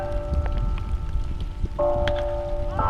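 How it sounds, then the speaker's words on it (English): Steady rain patters and trickles nearby at a high school baseball game, mixed with church bells ringing in the background. "We got the church bells and the rain trickling down."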